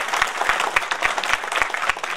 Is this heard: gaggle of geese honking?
no